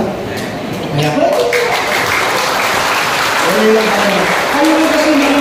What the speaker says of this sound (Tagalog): palakpakan mo na lang